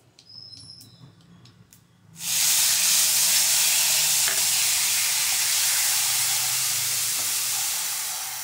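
Water-mixed masala paste hits hot oil with dried chili and bay leaf, bursting into a loud, sudden sizzle that holds as a steady close hiss, with faint clinks just before.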